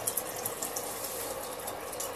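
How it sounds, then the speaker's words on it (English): A water bottle being filled at a tap, a steady rushing hiss of running water that holds constant from start to finish with no talking. "I figure I should fill up my water before I go teach tonight"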